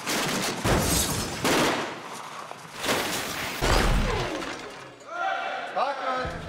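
Film stunt in which weapons fire and light balsa-wood debris is dropped and breaks, heavy booming bursts and crashing impacts in several loud waves, followed by scattered rattling debris and a voice speaking near the end.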